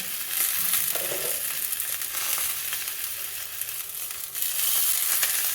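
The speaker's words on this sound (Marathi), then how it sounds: "आपण झाकण काढून वांगी हलवून घेऊया" Eggplants roasting in a covered pan while being turned give a steady broadband sizzle with a brief rustle of movement near the start, constant and fairly loud with no voices.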